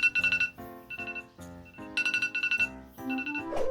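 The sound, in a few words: typical iPhone alarm clock ringtone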